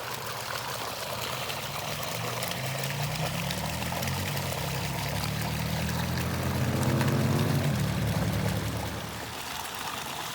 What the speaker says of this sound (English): It's close to the source, and after it leaves this small pool, it makes its way to the larger pond.